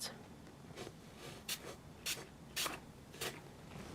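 Distress Spray Stain misted through a stencil in a series of short, soft hissing bursts at irregular intervals, fairly faint and close, with quiet pauses between sprays.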